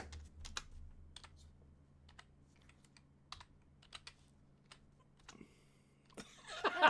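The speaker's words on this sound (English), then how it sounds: "I love how you start typing stuff" Someone types on a computer keyboard, tapping out scattered bursts of sharp, quiet keystrokes with short gaps between, ending in a louder flurry of clicks.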